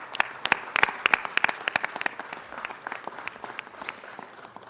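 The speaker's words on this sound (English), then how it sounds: "Would you please help me by giving him a round of applause?" Scattered audience applause at a city council meeting for an Armenian-born musician, a few dozen hands clapping in a room, fairly close and thinning out over a few seconds.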